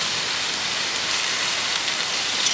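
Fish, potatoes, plantain and green chilies frying in oil during village cooking, a continuous loud hissing sizzle that stays even and close throughout.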